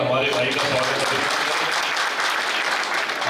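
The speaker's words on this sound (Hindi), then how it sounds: "ब्यावर की जनता जोरदार ताली बजाकर हमारे भाई का स्वागत करे" Public crowd in Beawar applauding loudly to welcome a guest at a Mali Sena Rajasthan gathering, a dense sustained roar of clapping from many hands filling the whole stretch, with a voice mixed in.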